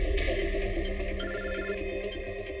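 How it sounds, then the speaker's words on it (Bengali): A telephone rings indoors with a repeating electronic ringtone, a bright warbling pattern over a steady tone, heard alone at moderate loudness. "যে কোনো সময় ওদের ফোন আসতে পারে।"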